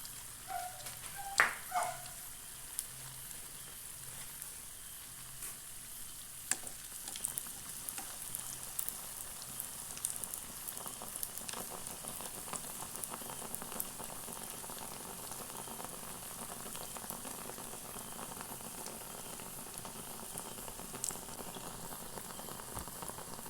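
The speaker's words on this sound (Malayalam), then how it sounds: "മാവ് ഒഴിച്ചു കൊടുക്കാം നല്ലതുപോലെ എണ്ണ തിളച്ചതിന് ശേഷം മാത്രമേ നമുക്കിത് ഒഴിച്ചു കൊടുക്കാവൂ" Batter sizzling in hot, boiling oil while an evening snack fries: a steady, faint crackle and bubbling hiss that runs without a break, with a few sharper pops near the start and no voices.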